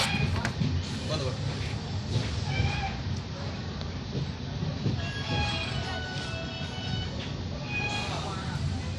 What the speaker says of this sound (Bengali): তো আমরা এখন ঢুকছি পাড়াজ রেলওয়ে স্টেশনে।